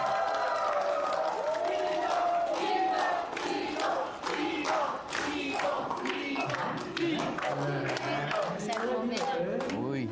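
A comedy show audience cheers, claps and shouts, a lively crowd whose rising and falling din fills the room while a few voices talk over it.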